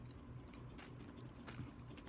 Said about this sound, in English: what crinkliness they do have is like in your mouth as you crunch them